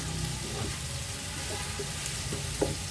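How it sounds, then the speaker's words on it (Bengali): Onion frying in hot oil with whole spices such as cinnamon, cardamom, cloves and peppercorns for chicken biryani, a steady close sizzle with a few light stirring scrapes and no talk. "এখন একটু ভেজে নিব পেঁয়াজটা"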